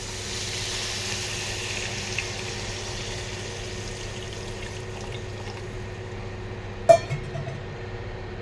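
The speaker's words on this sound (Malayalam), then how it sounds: "ഇതിലേക്ക് ആവശ്യമുള്ള വെള്ളം ഒഴിച്ച് കൊടുക്കാം നമുക്ക്." Water pours steadily into a pan of tomatoes for a squid roast, a soft, continuous splashing hiss ending with a brief clunk.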